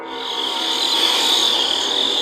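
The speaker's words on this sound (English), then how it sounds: "catches nothing but crickets chirping under a night sky" Night insects, likely crickets, trill outdoors under a night sky as a steady high-pitched chorus, continuous and fairly loud throughout with no voices.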